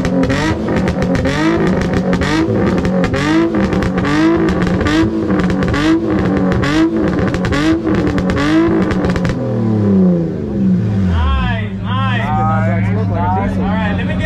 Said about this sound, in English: Let's hear your car first.